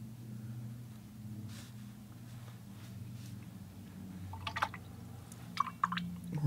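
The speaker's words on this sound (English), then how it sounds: "Rinse off the brush" A watercolor brush swished and rinsed in a water jar, giving a few soft, close splashes and drips over a steady low background hum, with the liquid sounds clustered toward the end.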